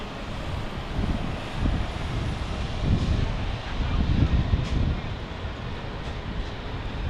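JetBlue airliner landing on runway 28 left, a distant broad roar swelling and fading over several seconds amid wind noise outdoors, steady and moderately loud without a sharp peak.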